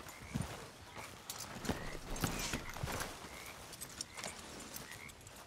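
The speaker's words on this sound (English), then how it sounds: "That's a healthy looking horse." Horse hooves clip-clop in a steady walking rhythm in Red Dead Redemption 2, fairly close, with a few brief snorts and no talking.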